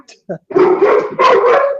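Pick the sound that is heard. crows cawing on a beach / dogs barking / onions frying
dogs barking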